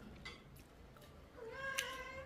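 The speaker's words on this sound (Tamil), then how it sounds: "வெளியில பூனை நிக்குது குடலின் வாசத்துக்கு பூனை வருது" A cat meows outside, drawn by the smell of fish guts being cooked in a Jaffna kitchen; one rising, fairly clear meow stands out late against a quiet household background.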